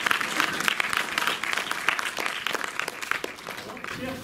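Audience applause fills a cinema screening room, a dense steady wash of many hands clapping for about four seconds with no break.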